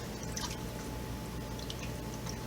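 Cold tap water runs steadily during sandbass cleaning, a continuous close splashing stream with faint dripping over it and no talk.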